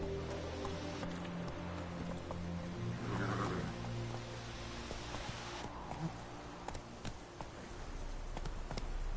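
Roach the horse gallops in The Witcher 3: Wild Hunt, a steady clip-clop of hooves that runs through the whole stretch over a constant game soundscape, fairly loud and close.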